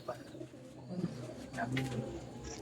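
Madrasi pigeons cooing in a loft, low soft coos repeating over a steady background hum.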